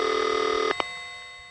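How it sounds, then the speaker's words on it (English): A ragged-sounding telephone ringtone on a 1973 New York City trunk line: one steady, harmonically rich ring burst that cuts off, then a brief click, followed by quiet line hiss. "That last trunk that had the overtone also had a ragged-sounding ringtone."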